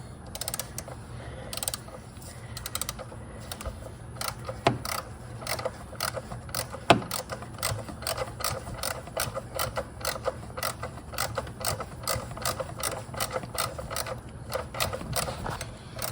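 A ratchet loosens a bolt on a Honda Pilot engine during a PCV valve change, a long run of rapid, evenly spaced clicks close up, with a few heavier knocks between them.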